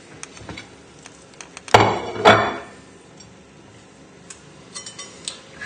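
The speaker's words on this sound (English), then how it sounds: "And then we're just going to chop this up as well." Two loud knife chops land on a plate during food prep, with softer taps and clicks around them, close by and without talking.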